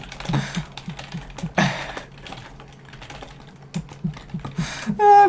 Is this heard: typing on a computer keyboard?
yes